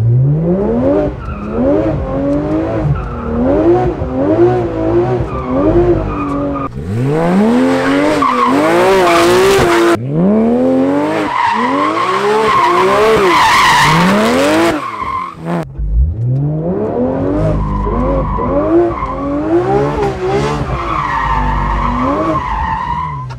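A Porsche GT3 RS drifting on empty roads still damp from morning rain lets out loud, sustained, wavering tire squeals, rising and falling in repeated long screeches over the engine, with no talking.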